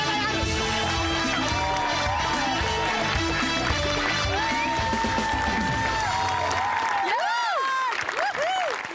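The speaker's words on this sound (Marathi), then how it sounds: "जोरदार टाळ्या" Loud applause and cheering from an audience at a cricket match show, a steady dense clatter of clapping mixed with bright melodic music tones throughout.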